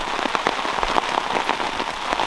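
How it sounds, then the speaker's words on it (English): Rain drums directly on a camping tent during a spring trout fishing trip in Algonquin, with a dense, steady patter of close drops and no pauses. "Getting directly hit with rain"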